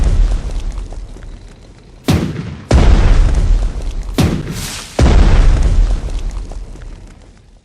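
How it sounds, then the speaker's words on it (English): In the PC strategy game Panzer Strategy, a British anti-aircraft gun fires during a Battle of France air bombardment, giving four loud booming blasts at uneven intervals, each one decaying into a rumbling tail. "British anti-aircraft gun is shooting back."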